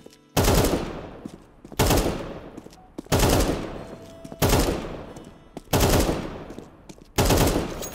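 Counter-Strike 2 gunfire while the player moves, six loud bursts of automatic fire roughly a second and a half apart, each trailing off before the next.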